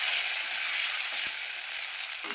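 Soaked raisins fry in a pan, producing a close, steady high sizzle that stays even throughout the short stretch, with no talking.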